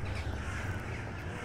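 In the absurdist game Jazzpunk, toaster birds let out raspy crow-like caws, a short, rough burst of overlapping calls at even volume, with no voices present.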